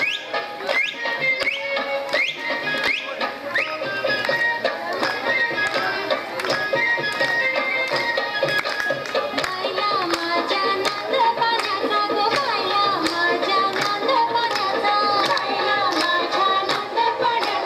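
Women in a Mangalagaur celebration group clap their hands together in a dense, continuous rhythmic patter that stays steady and loud throughout, with no pauses.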